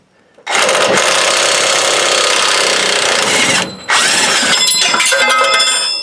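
A 22 mm wrench turns a nut on the A-arm of a 2022 Toyota Tundra. A loud, continuous whirring grind of ratcheting runs for several seconds, breaks off briefly, then starts again.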